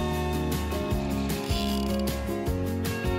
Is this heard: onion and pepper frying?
no